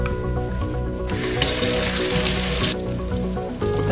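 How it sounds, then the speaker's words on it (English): Hot tap water running over a frozen Uncrustable sandwich, a steady close hiss and splash that swells louder in the middle as the stream hits the food, then eases back. "I'm just gonna run this over some hot water and see what he thinks."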